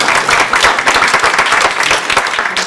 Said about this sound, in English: do we clap now?